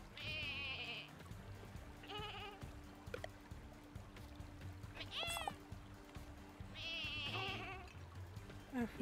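Sheep in the video game Lumberhill bleat in a few wavering calls, two longer ones near the start and end and a brief one midway, under a quiet game backdrop with someone talking.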